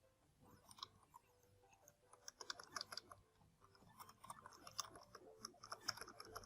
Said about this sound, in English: Yes, I'm using the keyboard, guys.